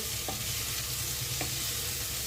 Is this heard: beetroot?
yes